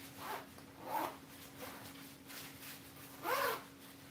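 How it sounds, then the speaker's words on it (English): A North Face windbreaker jacket is zipped up, giving several short rasping zipper strokes spaced apart, quiet and close, with no voices. "it zips all the way to the top"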